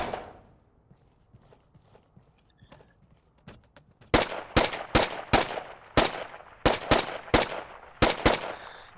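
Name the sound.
gunfire at a shooting range in a video game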